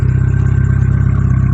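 A 2001 Plymouth Neon engine idles steadily and close by after starting, a low, even rumble with a regular pulsing beat and no voices over it.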